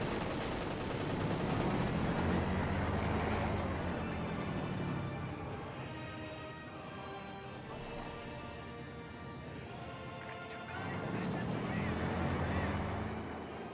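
Machine gun fire in the Company of Heroes 2 strategy game, rattling bursts rising and falling within a dense battle mix, moderately loud, with a commentator's voice running over it.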